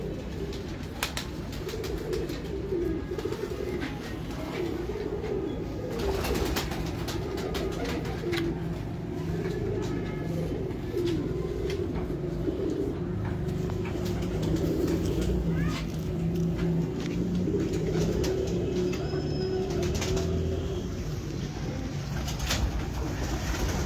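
Pigeons coo repeatedly in a loft, soft rolling calls overlapping one another at close range over a steady background hum, with no talk.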